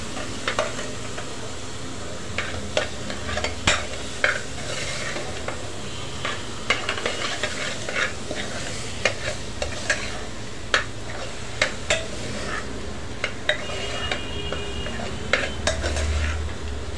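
A drumstick and potato sabji being sautéed in a pan, with steady frying sizzle and repeated sharp clinks and scrapes of a spoon stirring against the metal.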